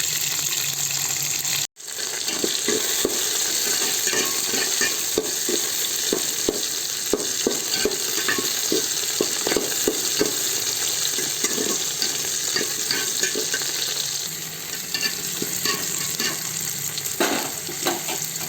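Onions and green chilies frying in a pan with cumin, a steady close sizzle with frequent stirring scrapes, briefly cut off near the start, with no talk.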